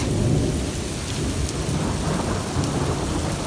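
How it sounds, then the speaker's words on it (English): A hailstorm sends dense, steady patter and rattle onto the surfaces all around, loud and continuous with no pauses and no voices. "So yes, this is a hailstorm."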